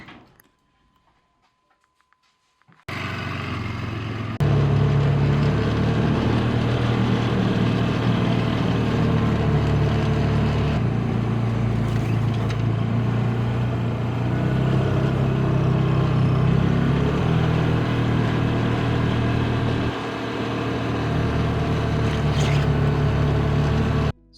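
Electric water pump starts up after a quiet moment and runs steadily, pushing water uphill to a storage tank in a home water system; a continuous close, loud motor hum with a low rumble that holds for the rest of the clip.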